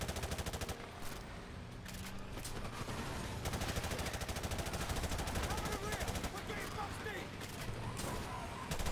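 Automatic and single gunfire from the first-person shooter Call of Duty Modern Warfare Remastered campaign, dense and continuous across the whole stretch, mixed with game music and effects at a steady loud level.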